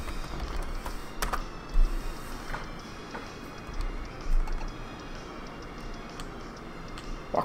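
Someone types on a computer keyboard in quick, irregular bursts of light clicks and taps, a few heavier keystrokes standing out against a quiet room, with no voices.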